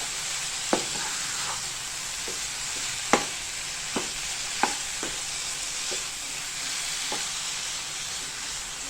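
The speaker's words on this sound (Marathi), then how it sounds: "आता हे सारण चांगलं आपण कोरडं करून घेऊया" Modak filling with poppy seeds and sesame being stirred and dry-roasted in a pan, a steady soft sizzle with scattered light scraping taps of the spoon.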